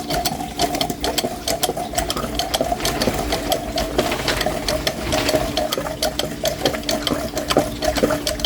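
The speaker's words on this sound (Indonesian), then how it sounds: "Nah ini dipompanya pelan saja seperti ini, jangan terlalu ke atas" Small minimalist hand pump drawing water, a rapid, steady mechanical chugging with dense repeated clicks and a gurgling undertone, loud and close throughout.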